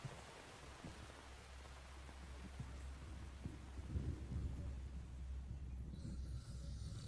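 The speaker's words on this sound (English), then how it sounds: "She wonders every time there's rain." Rain in the Metal Gear Solid 3 video game, a faint steady hiss of falling rain with a low rumbling undertone, quiet and continuous with no talking.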